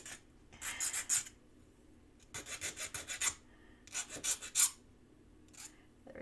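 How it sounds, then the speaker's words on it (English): A hand file rasps across an edge to round it off, coming in several bursts of quick back-and-forth strokes separated by short pauses, close and fairly quiet. "So we're going to go back, file all those edges, make it nice and round."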